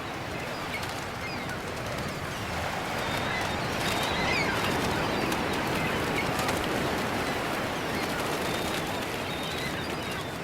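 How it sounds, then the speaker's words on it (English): Dense, constant wash of seagulls feeding on washed-up crustaceans on a beach in Oman, scattered calls over steady surf-like noise without talk. "A feast for the seagulls."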